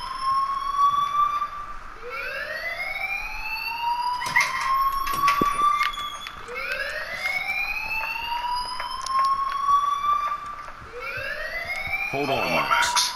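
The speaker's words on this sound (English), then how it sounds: "please turn off the alarm since that's your job" A fire alarm in the video game Life is Strange sounds as a loud electronic whoop that sweeps upward again and again, about every two seconds, continuing without pause.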